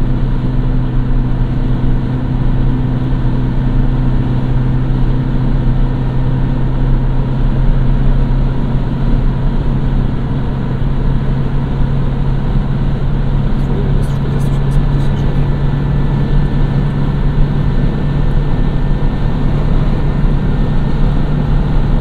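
A 2019 Suzuki Jimny with a 5-speed manual cruises on a motorway at about 140 km/h and 4300 rpm, its engine and road noise forming a loud, steady, unbroken drone throughout.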